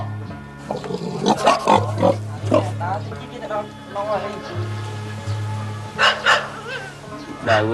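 Grunts from a sick sow that recently farrowed a large litter, heard on a Cambodian rice-field farm during a veterinary visit, with people talking over and between the repeated low grunts.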